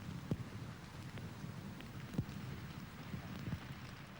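Heavy rain falling on a golf course during a final-round broadcast, a steady soft hiss of drops with faint scattered taps and low rumble, distant and even throughout.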